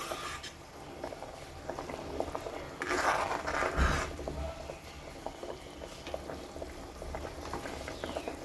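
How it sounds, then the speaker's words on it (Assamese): Water boils steadily in a cooking pot holding fish and eggplant, a dense bubbling hiss that keeps going with a brief louder surge in the middle. "মানে উতল আহিব দিম ধুনীয়াকৈ পানীখিনি"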